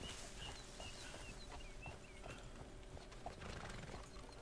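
Faint horse hoofbeats clop along with a horse whinnying softly in the distance, birds chirping lightly in the background, in the video game Red Dead Redemption II.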